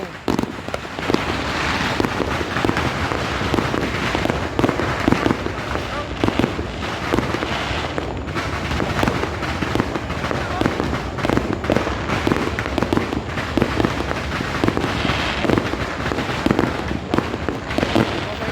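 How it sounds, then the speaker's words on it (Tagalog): Continuous New Year fireworks bursting and crackling all around, dense overlapping pops and booms with no pause, voices talking faintly underneath. "Kabila ng fireworks dito."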